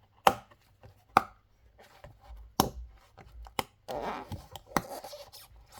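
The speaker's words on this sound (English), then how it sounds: "I'm going to pop the rest off and then we'll move on to the next step" Cured resin pieces snap and pop off scratch paper in sharp, separate cracks, about six of them, close and crisp with soft rustling between, and no talking.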